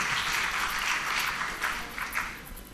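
A crowd at a spelling event breaks into applause, a soft, diffuse patter of clapping at a moderate distance that swells slightly and then thins out over a few seconds.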